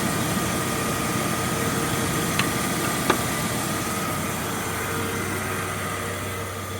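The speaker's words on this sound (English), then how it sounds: "That air compressor pulley is just spinning away" 1996 Ford F150 engine idling with the AC compressor engaged: a steady, even mechanical hum with a faint whine, heard close and continuous, with two small clicks partway through.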